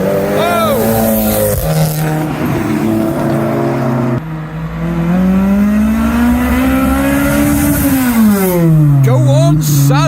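A Mercedes pulling away from a car meet, its engine revving hard with rising and falling pitch sweeps, loud and close, while people nearby talk and cheer over it.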